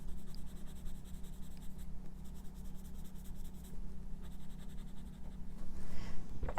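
Colored pencils scratch across paper in a coloring book with soft, quick strokes and faint rubbing, close by, over a low hum of room noise and with no voices.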